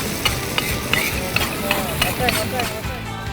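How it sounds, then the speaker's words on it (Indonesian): A spatula scrapes and taps rhythmically in a wok over a steady sizzle of ground spice paste frying, with voices talking nearby. "Bumbu yang udah Ibu haluskan, saya masak terlebih dahulu ya"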